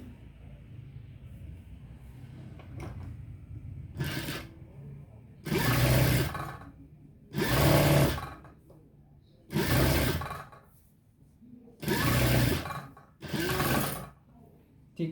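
A sewing machine stitching lace onto a garment neckline runs in loud bursts of a couple of seconds each, five or six runs separated by pauses, close by, with a quiet voice talking before the stitching starts.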